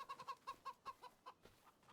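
Rapid chicken clucks in a quick, uneven series, close and fairly soft, with the sharp, slightly synthetic tone of game farm sounds from Farming Simulator 25.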